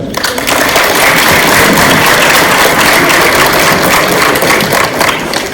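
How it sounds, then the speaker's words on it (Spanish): Applause from an audience at a school presentation at Telesecundaria Josefa Ortíz de Domínguez in Xalapa, Veracruz, steady and loud for about five seconds with no talk over it. "Un fuerte aplauso."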